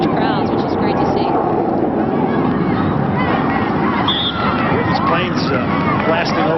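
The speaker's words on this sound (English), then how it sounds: "Planes blasting over here in Virginia Beach." Military jets roar overhead near a naval station at Virginia Beach during a women's international soccer match, a heavy sustained rumble blended with crowd noise while someone talks over it.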